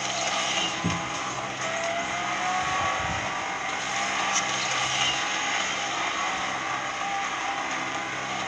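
A Corvette's racing engine drones steadily through a race in Asphalt 9 Legends, sustained and fairly loud. Faint thuds and mechanical whirs surface briefly over the constant tone.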